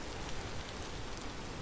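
Steady, dense rain falling in the Vintage Story survival game, a continuous even hiss of drops over a farm, fairly loud and unbroken with no voices.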